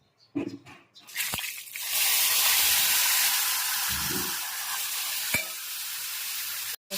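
Hot oil tempering with turmeric for a gunda sambharo bursts into a loud, sustained sizzle after a few clattery knocks, hissing evenly for several seconds before cutting off abruptly.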